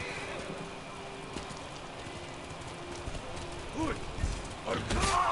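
Horse hooves clop at a steady pace through rain in the video game Ghost of Tsushima, over a constant patter of rainfall, with a few louder thuds near the end.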